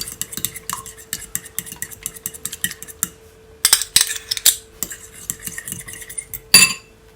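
Egg is whisked in a bowl with a utensil, giving quick rhythmic clinks and scrapes against the bowl, close and fairly loud, with a few sharper knocks near the end.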